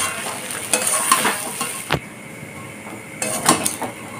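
Soaked flattened rice (chira) is fried and stirred in a pan over a low gas flame, with soft sizzling under intermittent scraping and clinks of a spatula, close and without talk.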